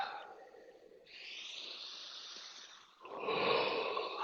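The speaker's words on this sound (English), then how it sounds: "long, deep breath in, and through the mouth, just, make some sound maybe" A long, deep breath exhaled audibly through the mouth during a guided breathwork session, a soft breathy rush that swells in two waves, the second louder and closer, with no talk over it.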